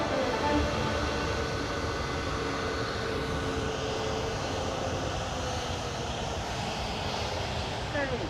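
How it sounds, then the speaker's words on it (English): A Boeing 737 taxis to its stand at a busy British airport, a steady, loud jet engine whine and roar holding constant throughout, with speech underneath. "Ian quickly manoeuvres the 737 and brings it safely to the stand."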